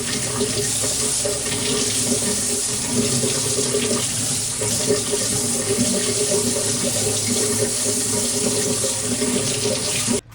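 Tap water runs steadily over chopped spring onions being rinsed in a sink, a continuous close splashing rush that holds for the whole stretch and cuts off right at the end.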